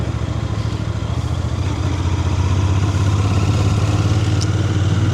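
A Royal Enfield Bear 650 motorcycle engine runs steadily and close by, a continuous low throbbing drone that thickens slightly partway through, with no voices.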